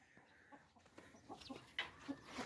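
A rooster in a Pakistani Punjab village gives a few short clucks and squawks close by, growing louder toward the end over a quiet background.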